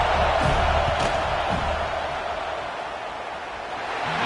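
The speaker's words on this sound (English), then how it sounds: "This crowd trying to do its part to get inside the kicker's head." A dense, steady roar from a football stadium crowd during a field goal attempt, with broad, sustained noise throughout and a few faint sharper bursts near the start.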